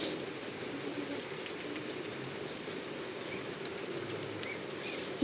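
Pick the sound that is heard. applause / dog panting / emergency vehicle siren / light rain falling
light rain falling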